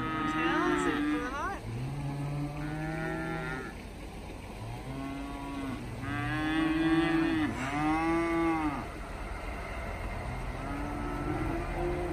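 Several cows moo in long, drawn-out calls one after another, loud and fairly close, with a low background hum between them.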